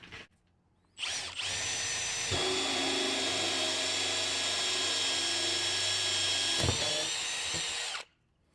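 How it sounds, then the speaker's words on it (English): A power drill spins up with a hole saw and grinds steadily through OSB board for several seconds, then stops abruptly. "We're going to go ahead and drill through some of this OSB right here."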